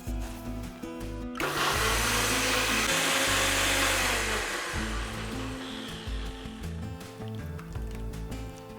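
An electric blender grinds onion, ginger, radhuni and green chili with water into a paste: a loud, rising motor roar kicks in after a second, holds for several seconds, then eases down toward a lower whir.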